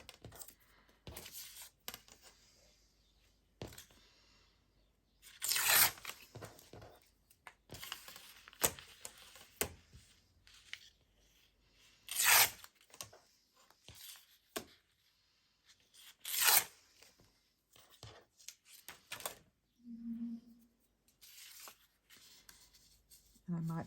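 Recycled envelope paper torn along a ruler on a crafting desk, several short rasping rips and papery crinkles scattered among quiet pauses, with light handling thumps and a brief soft tone near the end.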